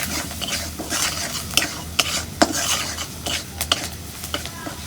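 Spices with dried chillies, turmeric and salt frying in hot oil in a pan, a soft continuous sizzle broken by repeated scraping clinks of a spoon stirring against the metal, close and alone.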